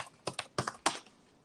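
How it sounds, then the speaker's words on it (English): Loud typing on a computer keyboard, heard as about five sharp, close key clicks in a quick irregular burst that fades into quiet room tone. "There's some loud keyboard types."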